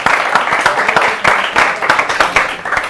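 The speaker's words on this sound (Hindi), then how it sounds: "एक बार जोरदार तालियां हो शंभू जी हमारे भी" Dense, loud applause from an audience at a Hindi poetry recital greets a humorous poet, sustained clapping with bursts of sharper claps across the full few seconds and no talk over it.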